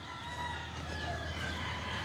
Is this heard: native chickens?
yes